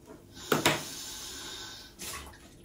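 A dish rinsed under a running tap, a steady close stream of water with a couple of sharp knocks and splashes as it is handled.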